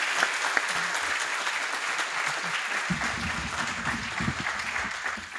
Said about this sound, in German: Ich denke, das ist ein Applaus wert von der Schulgemeinschaft.